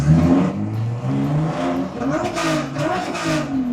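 A turbocharged BMW E30's engine revs hard and steadily under load on a dyno, its pitch rising and falling, loud and close.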